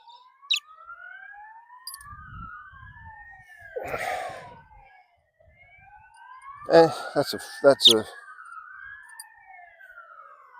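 An ambulance siren wails past in long rising and falling sweeps, loud and steady across the whole stretch, with people talking over it and a few sharp knocks partway through.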